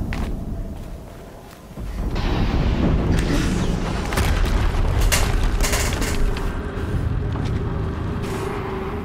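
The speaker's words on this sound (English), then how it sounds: "Another explosion." Explosions go off in the PS4 video game Horizon Zero Dawn. After a brief quieter stretch, a loud, sustained rumbling boom with crackling debris-like bursts fills the rest of the clip.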